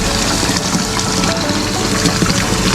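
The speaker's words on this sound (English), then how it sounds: "Water's going to come gushing out of there, out that pipe." Water flows from a filter pipe on a DIY koi pond, a loud, steady rushing gush that holds close and constant with no talk over it.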